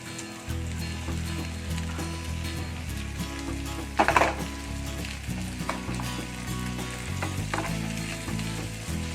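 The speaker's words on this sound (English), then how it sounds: "It's time to add our prawns to the dish." Prawns sizzle in butter with garlic and curry leaves, a steady crackling fry with a brief louder burst of spattering near the middle as they hit the pan or get stirred, with no talking.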